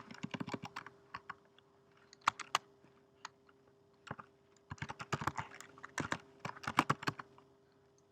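Typing on a Mac computer keyboard at a desk, quick bursts of clustered key clicks separated by short pauses, close and fairly quiet over a faint steady hum.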